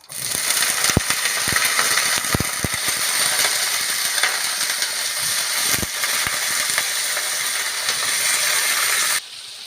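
Eggplant pieces fry in oil with sesame chili powder, giving a steady loud hiss and sizzle that runs with a few sharp pops and clinks, then drops off abruptly at the end.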